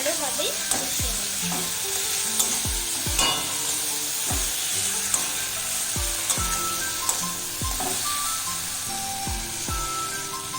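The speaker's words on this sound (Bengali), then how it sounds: "দিয়ে আমি ভালোভাবে টমেটো আর পেঁয়াজটাকে কষিয়ে নেব" Tomato, onion and green chilli masala stir-fried in a pan, steady close sizzle with a regular rhythm of spatula scrapes and knocks against the pan, no talking.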